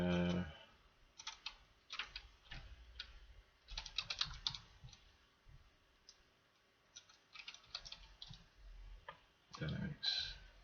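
Clicks from a computer mouse and keyboard during work in business software, quiet scattered taps and clicks in irregular bursts while a person talks over them.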